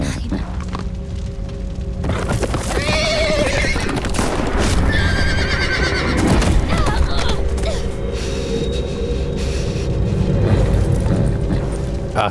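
Horse neighing and whinnying in The Walking Dead video game, loud and close, with clopping hooves, heavy thumps and mechanical clatter throughout.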